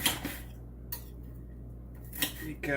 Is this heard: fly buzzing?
no